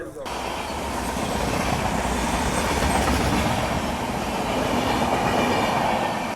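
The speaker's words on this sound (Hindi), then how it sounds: "ये मेरे ख्याल से अमृतसर जयनगर क्लोन क्रॉस हो रही है अपने से" Heard from aboard the Kathgodam Shatabdi Express, the Amritsar Jaynagar Clone train rushes past in a loud, sustained roar with rattling wheel clatter that swells and holds for several seconds.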